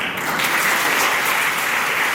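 An audience at the closing ceremony of a ten-day free folk dance workshop claps in a steady, dense burst of applause that fills the whole moment and has no talk over it.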